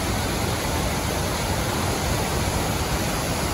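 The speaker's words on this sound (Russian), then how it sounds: "Вдали первый водопад. Водопад или порог, не знаю, как правильно назвать." A distant mountain waterfall or river rapids, a steady broadband rush of water that stays constant and even throughout, with no voices over it.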